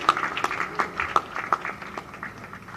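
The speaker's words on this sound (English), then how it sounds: "Please give a big round of applause" Audience clapping at the STONA 2023 closing ceremony at BIEC, Bengaluru: sparse, fairly rhythmic claps a third of a second apart that thin out toward the end, faint and somewhat distant.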